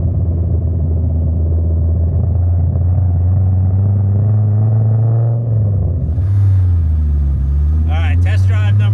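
A Viper V10 engine swapped into a Nissan 240SX idles with a steady, deep rumble that dips and shifts briefly before settling back, and a voice comes in near the end.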